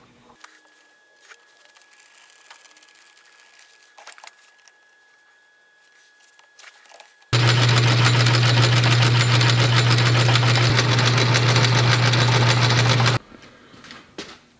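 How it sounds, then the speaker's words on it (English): A metal lathe facing the end of a rod runs loud and steady for about six seconds, a continuous machining drone with strong low hum, starting and stopping abruptly between quieter shop moments. "now I want to take it over here and put it in my lathe."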